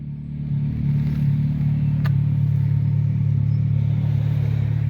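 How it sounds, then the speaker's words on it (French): A Smart Roadster engine with a stainless steel exhaust drones loud and steady, holding a low rumble as it revs and pulls away, with a brief sharp tick midway. "Allez, elle envoie l'échappement inox."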